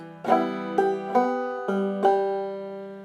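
Clawhammer banjo picking: five bright plucked notes ring out clearly one after another, each decaying before the next, played alone.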